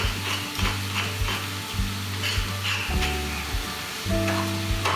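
Food sizzles steadily in a hot pan, with a loud crackling hiss and repeated scraping knocks as it is stirred, no voices.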